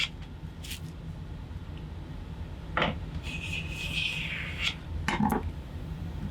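A hand plane set for a fine cut shaves a wooden piece for a dovetailed stitching tray, giving a few short, separate rasping strokes against a quiet, low background hum in the workshop.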